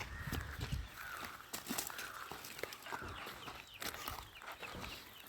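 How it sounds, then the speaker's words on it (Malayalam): Many small black Karinkozhi chicks peep and chirp in a steady, overlapping chorus at a poultry farm, with soft scuffling and movement nearby. "ഇതാണ് നമ്മുടെ കരിങ്കോഴി കുഞ്ഞുങ്ങൾ"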